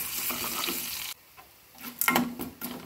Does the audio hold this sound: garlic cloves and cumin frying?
yes